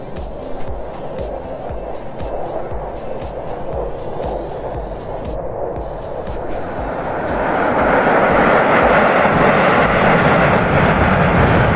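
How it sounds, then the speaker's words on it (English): A SAAB jet performing a barrel roll at an air show, its engine roaring steadily and loud, swelling louder and brighter toward the end as it passes nearer. "He will now perform a barrel roll to give you a good view of the entire aircraft."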